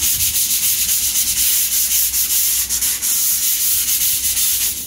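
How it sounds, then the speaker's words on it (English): Steady, continuous scratchy sanding against a plywood or cement board, close and fairly loud, with a rhythmic back-and-forth rasp and no talking. "When I'm sanding, I'm going to feel for the smoothness"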